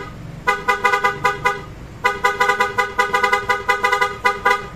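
Stock horn on a Kymco Xciting S400 scooter, sounded in two bursts of rapid, evenly spaced toots, a short cluster followed by a longer run of beeps, loud and close.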